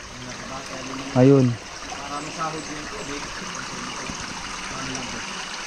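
Water trickles and streams steadily through rocks on Didaddungan White Beach in Palanan, Isabela, a close, continuous babble under brief speech from a man.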